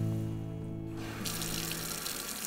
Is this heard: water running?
yes